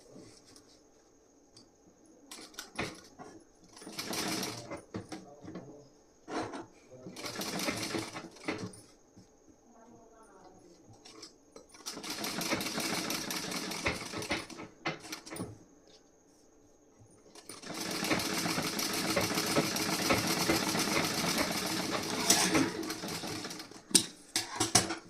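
Sewing machine stitching the front part of a blouse, bursts of rapid mechanical whirring that start and stop repeatedly, the last runs longer and steadier, close by.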